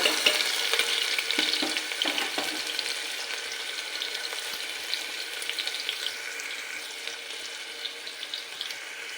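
Chopped onion frying in hot oil with garlic and curry leaves for moong khichdi, a steady bright sizzle with occasional stirring scrapes, close and continuous.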